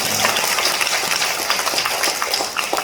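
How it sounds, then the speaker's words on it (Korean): A church congregation claps together in a Korean Sunday service, a dense, steady wash of applause from many hands filling the room without a break. "주로 감사하다고 한 박수 하겠습니다."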